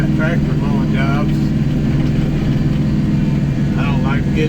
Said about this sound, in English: Tractor mowing jobs.